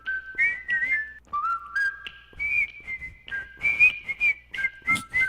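A person whistles a short wavering tune, clear and close, with several separate phrases and brief pauses between them.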